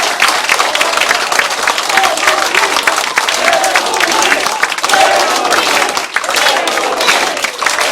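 Audience applause fills a campaign committee dissolution ceremony in a hall, a steady dense clapping wash lasting throughout with no break, loud and close, with a slight dip near the end.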